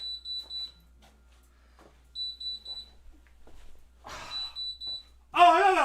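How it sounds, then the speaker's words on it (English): Receipt printer beeping in short rapid bursts of high electronic tones that repeat in evenly spaced groups, with a voice cutting in toward the end. "Nah, that's a receipt printer."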